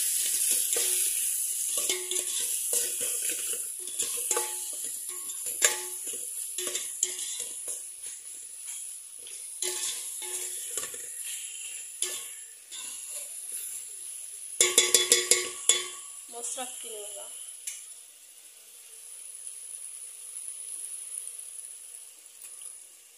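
Masala spices frying in oil in a pot for kushka, a steady soft sizzle with occasional stirring clinks and scrapes, louder bursts of sizzle and utensil clatter midway, no talking.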